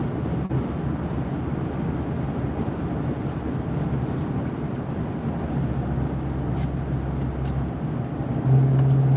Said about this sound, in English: I'm just out here Sunday driving, you know? Keep set, drive too slow.